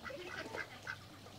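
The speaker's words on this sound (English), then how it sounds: "There's some more supposed ducks." Several ducks quack in short bursts, including a patterned duck and a crested duck at a Costa Rica animal attraction. The calls come close and fairly loud over steady outdoor background noise, with no talking.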